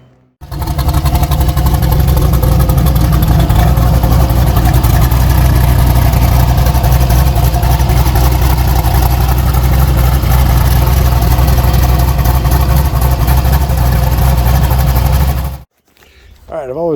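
A boosted truck engine, started for the first time after work in a garage, runs as a loud, close, steady low idle for about fifteen seconds before cutting off abruptly.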